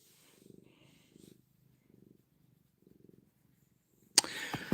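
A rescue cat purrs softly and close in a slow rhythmic series of rumbling pulses, faint and alone, before a sudden loud clatter at the end.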